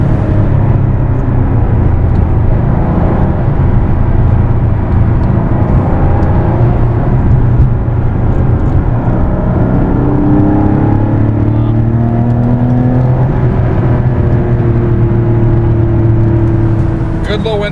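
A modified Porsche 964 with a 3.8 engine accelerates in a long, loud pull, its engine tone climbing and dropping through gear changes over a constant roar, while a person talks over it.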